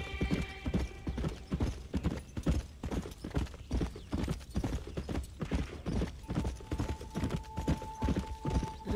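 Horse hooves in the video game Red Dead Redemption clip-clop in a steady, even rhythm, close and continuous for several seconds over a faint background hum.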